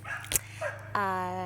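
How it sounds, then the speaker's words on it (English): A neighbor's puppy in a backyard garden gives a few short yips and a higher whining bark, fairly close and clear against a steady background hum. "If you hear a dog walking in the background, that's my neighbor's puppy."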